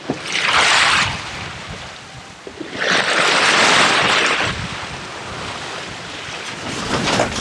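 A sailboat moves under sail alone, with no motor, on the open sea on the way to Key West. Gusting wind and washing waves rise and fall in loud, rushing surges.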